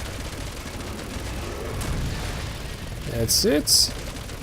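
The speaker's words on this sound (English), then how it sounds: "I'm gonna keep shooting him." Gunfire rings out while an enemy is shot in the video game Resident Evil 6, a couple of loud bursts near the end over rumbling game noise. Someone speaks briefly.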